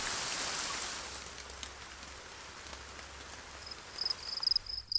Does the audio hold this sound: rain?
yes